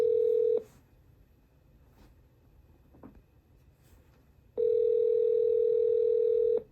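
A ringback tone from a FreePBX home phone system plays as a steady, loud electronic beep, with about half a second of tone, a long pause with faint clicks, then a second tone of about two seconds.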